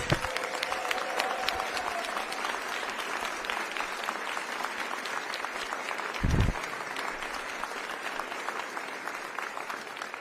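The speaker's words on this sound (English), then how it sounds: "So give yourself a round of applause." Steady audience applause fills a room at an Iowa bill signing for private school tuition, sustained and fairly loud throughout, with a brief low thump partway through and faint voices mixed beneath.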